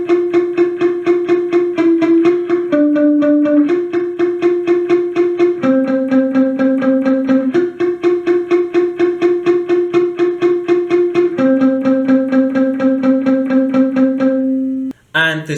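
Palm-muted electric guitar chugs through the pre-chorus of a song, tight, clipped, rhythmic notes shifting between a few pitches, loud and close, with a brief stop near the end.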